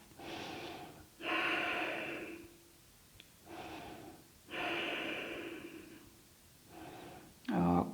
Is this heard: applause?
no